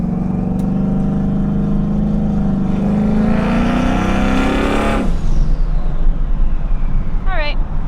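A twin-turbo Ford Mustang accelerates hard up a highway on-ramp with a loud, rising engine note. The pitch climbs, then drops sharply at a gear change and keeps building.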